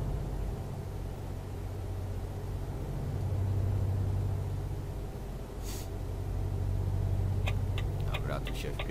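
An empty Volvo truck in Euro Truck Simulator 2 rolls along slowly, its engine a low steady drone that swells midway, with a brief hiss and a few clicks near the end.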